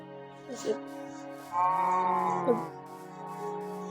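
A sheep bleats in the video game Minecraft, a drawn-out wavering cry in the middle of the clip amid short game clicks and a low steady tone, fairly quiet and with no voices.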